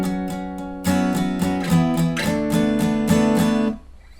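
An acoustic guitar plays power chords for a song in an accented strumming pattern: a run of sharp, evenly spaced strums, close and bright, that stops abruptly and leaves a short silence. No voices.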